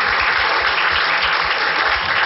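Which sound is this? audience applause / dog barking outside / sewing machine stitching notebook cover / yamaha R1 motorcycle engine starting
audience applause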